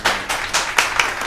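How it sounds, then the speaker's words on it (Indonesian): A small audience at a wedding-industry talk show claps briefly, a handful of distinct hand claps over about a second, close and fairly sharp. "Yuk kita kasih tepuk tangan dulu."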